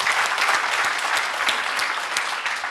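Audience applause at a live stage event for young CEOs, a dense, steady wash of many hands clapping throughout, moderately loud with no voices standing out.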